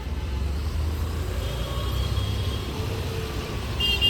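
Road traffic at night streams past as a steady, continuous low rumble with a faint horn-like tone near the end and no voices.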